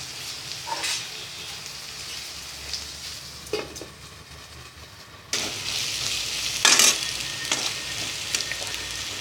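Beans in a pan over a low flame give a soft, steady sizzling hiss, close by. Louder stirring scrapes break in twice, and the sizzle grows brighter partway through. No one speaks.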